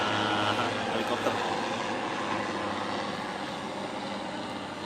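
Helicopter droning overhead as a steady, broad rotor-and-engine wash with a low thrumming pulse, fairly loud and continuous throughout with no talk.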